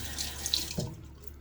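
A bathroom tap runs steadily into a sink while water is added to make shaving lather, a continuous close splashing hiss that eases slightly toward the end.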